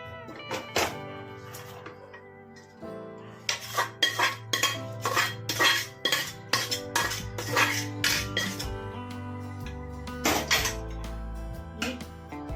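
Tapioca biryani being scooped from a small pressure cooker into another pot, a run of clanking metal spoon and vessel hits, scraping and knocks in irregular bursts, close and fairly loud with pauses between.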